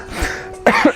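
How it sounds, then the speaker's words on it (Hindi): A schoolgirl in a classroom coughs near and loud, a short throat-clearing rasp followed by two quick harsh coughs. "मैं पानी की बोतल ले लूँ मैम, खांसी आ रही है मैम बहुत।"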